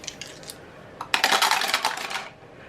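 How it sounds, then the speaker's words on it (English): Four dice are rolled by hand, giving a few light taps and then a dense burst of hard, rattling clicks and clatter that tumbles for about a second before settling, close and distinct. "I'm gonna roll these 4 dice again for my second roll"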